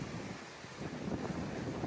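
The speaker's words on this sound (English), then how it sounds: "Sorry for the wind." Gusty wind buffets the microphone outdoors beside a Ford F-250 with power steps, a constant low rumble and rustling noise, no voices, fairly quiet overall.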